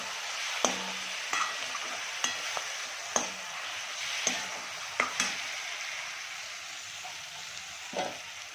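Chicken for chilli chicken fries in a pan with a soft continuous sizzle, punctuated by regular light taps and scrapes of a utensil turning the pieces, close by and fairly quiet.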